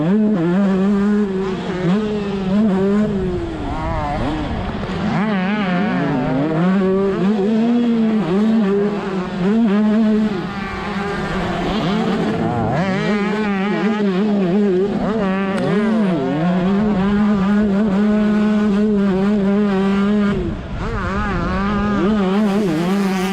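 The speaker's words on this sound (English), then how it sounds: "He's currently trying everything he can to make a pass on the number 15 machine here of Williams." Several 125cc two-stroke motocross bikes race around a dirt track, their engines screaming loudly and continuously as the pitch rises and falls with throttle and gear changes while riders battle for position.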